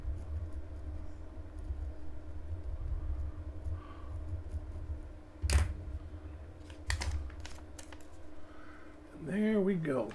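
Brief bursts of typing on a computer keyboard at a desk during a coin roll hunting session, a few short clusters of key clicks against a steady background hum, with a voice speaking nearby.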